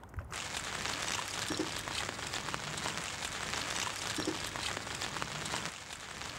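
Steady rain falls on surfaces outdoors at a fishing match, giving a dense, continuous patter throughout with no talking.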